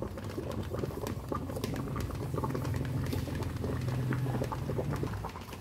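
Chocolate topping for a cake heats in a bowl set over boiling water, a steady close bubbling and pattering from the simmering pot with soft clicks, continuing without speech.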